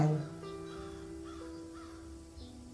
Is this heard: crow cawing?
yes